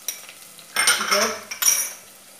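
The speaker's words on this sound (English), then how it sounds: "Take one spatula. Stir it well." A spatula stirs and scrapes through a pan of Kerala fish curry with small onions, giving metallic clatters and grinding scrapes in two or three short bursts.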